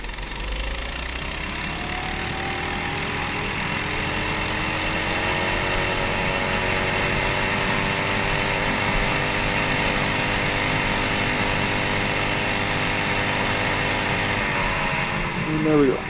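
A mini bike's small engine with its governor bypassed runs wide open, holding a loud, steady buzzing drone with rising harmonic whine throughout, up close and without talk.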